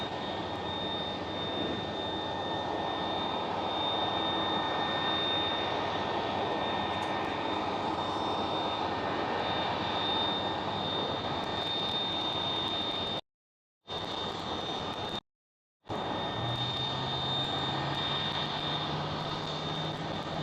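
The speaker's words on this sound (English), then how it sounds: "With a 737-700." Boeing 737-700 airliner at Schiphol airport, a loud steady broadband jet engine roar with a high whine, continuous and close, briefly cut out twice.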